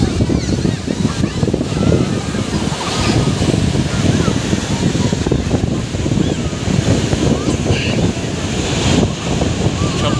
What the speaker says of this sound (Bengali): সাগরের আশ্রে পড়া ঢেউ